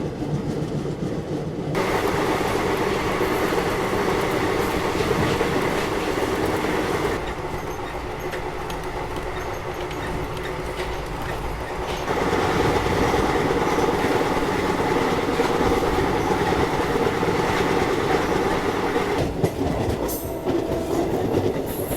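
Katni Bhusaval Express departing and running, a steady loud rumble of railcars with rhythmic clickety-clack on the rails continuing throughout, no voices.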